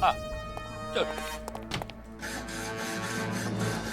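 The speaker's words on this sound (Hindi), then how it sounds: "अरे तू हथकड़ी काट रहा है, मेरा हाथ काट रहा है।" A steady rasping hand saw scrapes back and forth against metal handcuffs after a few knocks and clinks, over a sustained musical background.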